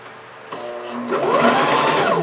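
A sewing machine stitching a skirt casing in black thread, its motor whirring and rising in speed as the needle runs, close and steady with no talking.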